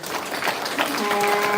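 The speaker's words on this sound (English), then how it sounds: "But give the sisters a round of applause" A short burst of audience applause rises at a church community gathering, steady clapping filling the room and growing slightly louder toward the end, with no voices over it.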